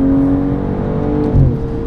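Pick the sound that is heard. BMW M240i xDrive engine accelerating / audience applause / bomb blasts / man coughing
BMW M240i xDrive engine accelerating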